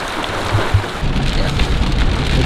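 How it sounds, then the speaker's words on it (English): Heavy rain falls steadily on a rainy Tennessee public-land morning, a dense continuous patter close by with a couple of low thumps and no voices. "if it's raining like it is today, a heavy rain"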